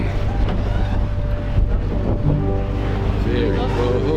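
Wind buffets the microphone aboard a ferry boat heading to Mackinac, with a steady low engine and water rumble underneath and people talking over it.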